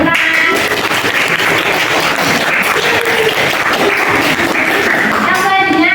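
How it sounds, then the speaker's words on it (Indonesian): Steady applause from a classroom audience after a poetry reading, loud and continuous throughout, with voices mixed into the clapping. "Tepuk tangan."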